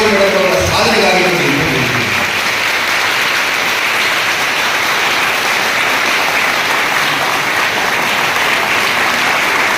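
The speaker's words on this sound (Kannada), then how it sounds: "1 ನಿಮಿಷದ ಚಪ್ಪಾಳೆಯನ್ನ ಚೇತನ ಮೇಡಮ್ ಅವರ ಸಾಧನೆಗಾಗಿ" Sustained applause from an audience at a public event honouring a woman's achievement, a dense, steady wash of clapping that carries through the whole stretch with no break.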